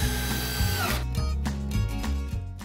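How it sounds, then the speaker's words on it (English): A power drill drives Craig exterior screws into wood to reinforce a workbench build, its motor whining loudly and then stuttering in short repeated bursts as the screw seats, close up and without voices. "reinforce that with these Craig exterior screws."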